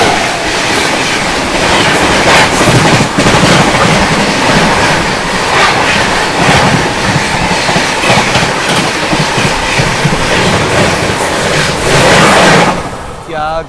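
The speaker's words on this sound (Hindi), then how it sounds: "सामने से आ रही है हावड़ा से चलकर नई दिल्ली की ओर जाने वाली राजधानी एक्सप्रेस। बहुत तेज आ रही है" Howrah–New Delhi Rajdhani Express passing at speed on Indian Railways: a loud, close, continuous rush of coaches with a rhythmic clickety-clack of wheels over rail joints, fading abruptly at the end.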